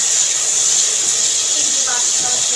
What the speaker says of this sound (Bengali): মশলাটা দিয়ে দেবো এবার তেলের মধ্যে